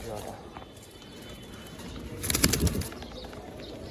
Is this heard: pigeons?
yes